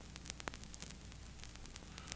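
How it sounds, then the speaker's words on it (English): Vinyl crackle running under a soul-chop beat: a steady low-level hiss with scattered sharp pops and clicks throughout, faint and continuous, with no other instruments. "The Noise is, of course, the vinyl crackle that's not from"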